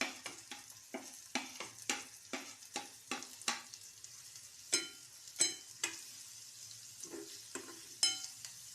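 Garlic and a mixed spice masala with peanut powder fry in oil while a spoon stirs them. Rhythmic scraping strokes sound over a soft, continuous sizzle, close by and without talk.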